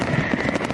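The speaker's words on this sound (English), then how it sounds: "Oh, I got to give myself some fireworks." A brief burst of fireworks played as a sound effect, a dense rapid crackle of pops lasting under a second, loud and close, with no talking.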